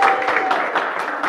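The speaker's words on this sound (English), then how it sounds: "So y'all clap for him too." A crowd claps together in a short burst of applause, the claps dense and fairly close, fading slightly toward the end.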